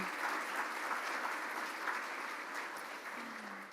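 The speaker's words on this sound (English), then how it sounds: "please give them applause as well" Members at a Rotary Club of Tulsa meeting give a brief round of applause, soft and steady clapping heard at a distance.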